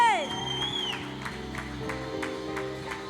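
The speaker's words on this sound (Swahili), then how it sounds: "Pigia Yesu makofi." A church congregation at a Sunday service claps along with music, steady rhythmic hand claps over sustained keyboard or organ tones and voices, loud and close throughout.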